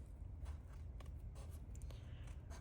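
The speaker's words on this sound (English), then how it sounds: "Smaller scissors are really going to be your best friend right now." Small scissors snipping around stickers on a craft tag, a run of soft, close, brief cutting and rustling sounds over a low background hum.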